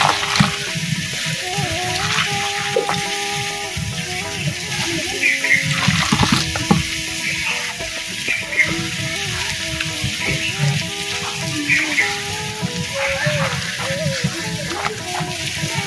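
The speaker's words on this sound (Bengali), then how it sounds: "এখন আমি জল দিয়ে দেব।" Water is poured into a turmeric and dried chili powder spice mix and stirred into batter for banana-flower chops, giving soft splashing and mixing sounds over quiet background music.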